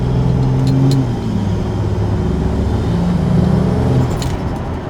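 A Ford Falcon drives steadily with a continuous mid-to-low engine hum and road noise, close and fairly loud, with slight shifts in engine pitch and no talking.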